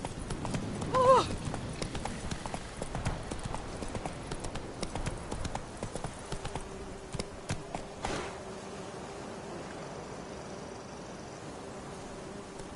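Rhythmic clip-clop hoofbeats from Roach, the horse in The Witcher 3 on PS4, gallop at moderate volume for most of the stretch, then fade toward quieter ambient game sound.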